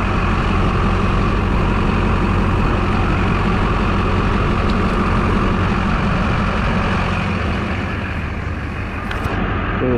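Loud, steady diesel engine idling on a BMW X5 M, a continuous low rumble and drone that stays constant throughout with no speech over it.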